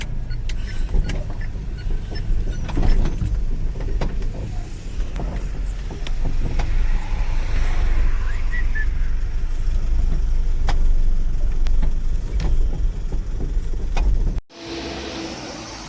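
A loaded goods lorry drives steadily along the road, its engine and tyre roar a continuous broadband rumble close by, with sharp bumps and rattles scattered throughout before the sound cuts off near the end.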